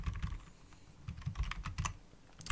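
Rapid typing on a computer keyboard while setting up an Arch Linux virtual machine on FreeBSD, a steady run of close, quiet key clicks with no talk.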